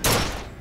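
A single sharp gunshot in BioShock Infinite, a loud close crack that decays quickly into a short echoing tail.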